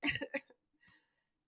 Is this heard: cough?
yes